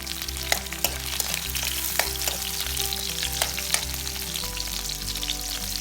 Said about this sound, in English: Saute the garlic till it's golden brown.